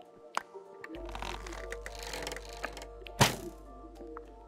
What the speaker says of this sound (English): if we get, say, a crossbow and shoot this